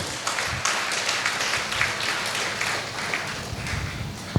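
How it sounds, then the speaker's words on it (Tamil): An audience at a Survivors Day radio show event claps for the whole team, a moderate burst of clapping with some louder hits, sustained for a few seconds. "அவங்க எல்லாத்துக்கும் இன்னொரு தடவை கைத்தட்டிடலாம் ஒட்டுமொத்த டீமுக்குமே"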